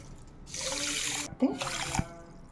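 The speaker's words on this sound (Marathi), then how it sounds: "दीड कप पाणी टाकून घेते" Water is poured into a pan of sugar in two short splashing pours, with a brief clink between them.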